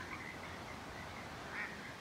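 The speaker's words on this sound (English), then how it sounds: "there's some ducks making a racket" Ducks quack faintly in a backyard at night, a distant, steady chatter with one slightly louder burst near the end, heard against a continuous outdoor background.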